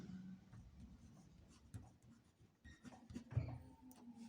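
Hand-writing sounds on paper while a math word problem is worked out, with faint scratchy pen strokes and taps in a quiet room.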